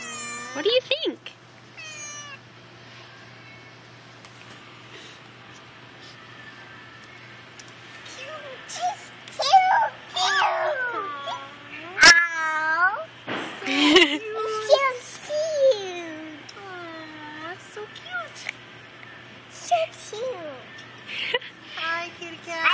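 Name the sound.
cat meowing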